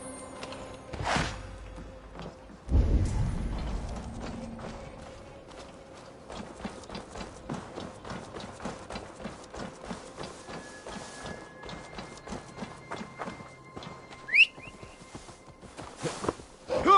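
Horse hooves clip-clop at a steady walking pace in Assassin's Creed Valhalla, soft and fairly quiet, with a few louder thumps and game sounds scattered over the top.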